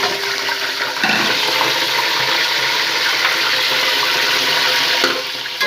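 Washed raw mutton goes into hot ghee in a cooking pot, setting off a loud, steady, close sizzle that holds for several seconds before easing off.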